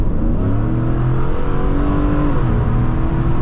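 Ford F150 pickup with a 5.0 engine and Borla Attack exhaust, loud and close, revving hard with shift changes audible as the engine note steps down and climbs again; constant heavy exhaust roar throughout, no talk.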